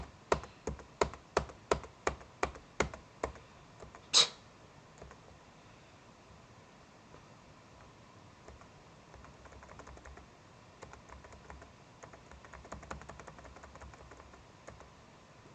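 A run of about eight evenly spaced computer keyboard clicks, then one sharper, louder button click, fading into a low steady hiss with no talk.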